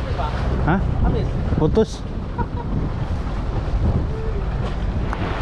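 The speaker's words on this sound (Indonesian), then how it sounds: "Angin masih kencang, Mas, dari timur laut." Strong northeast wind buffets the microphone on a fishing boat at sea, a steady low roar with water noise throughout, while people talk over it.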